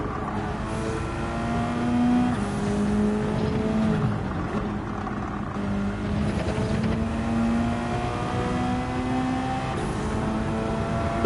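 Engine of a car in Gran Turismo 7 held at high revs past the limit, a steady loud drone with harmonic whine over several seconds.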